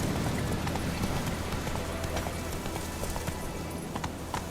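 Roach, a horse in The Witcher 3, gallops steadily in a fast clip-clop rhythm of hoofbeats over a dense, continuous game background of ambient noise, close and fairly loud throughout.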